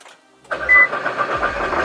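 A Nissan GT-R engine cranks briefly and then catches, settling into a loud, steady idle with a deep rumble.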